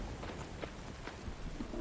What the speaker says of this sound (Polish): Taka burza, rany boskie.